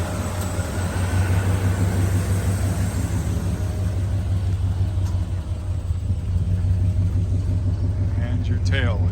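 A 1986 Chevrolet K10 truck idles with a steady, loud low engine rumble throughout, with a brief faint click near the end.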